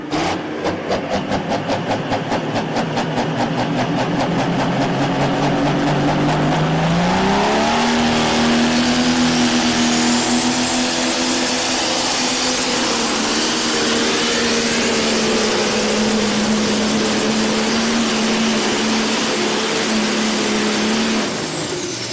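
A truck-pulling vehicle's engine roars while dragging a sled at a 4-H fair pull, starting with a rapid revving chatter, then climbing to a loud sustained howl that holds steady for the rest of the run.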